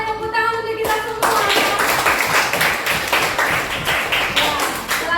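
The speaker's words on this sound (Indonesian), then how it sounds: "tepuk tangan untuk kita semua" A classroom of students claps hands together at the end of a coding and artificial intelligence lesson. It begins after a brief sung tone, then becomes a close, loud burst of rapid, uneven clapping.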